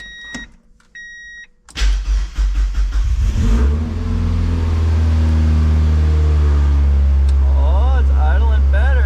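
High-compression 1.8 NB Mazda Miata engine cranks and catches, then settles into a loud, steady idle that holds fairly high; a short whine-like burst comes before the start and brief voices are heard near the end.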